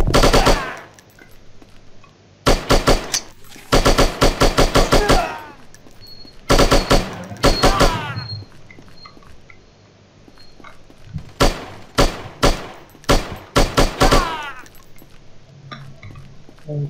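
Automatic gunfire in the shooting game Striker comes in loud, rapid bursts of several shots each, separated by quieter gaps with faint background ambience, with clusters at intervals across the stretch and no talk.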